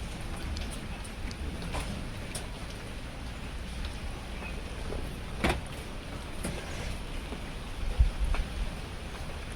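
Steady rain falls outside as a soft, even hiss, with a few scattered knocks and drips over the top. It is fairly quiet and distant, and no one talks.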